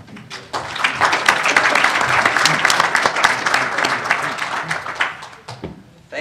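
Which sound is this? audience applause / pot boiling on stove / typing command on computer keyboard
audience applause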